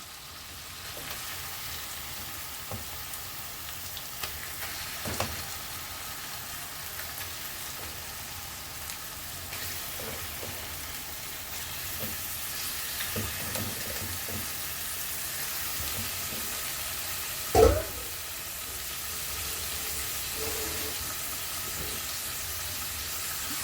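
Drained chicken pieces fry in a pan for dhaba-style chicken curry, giving a soft, continuous sizzle with scattered crackles and stirring knocks and one louder clatter near the end, with no voices.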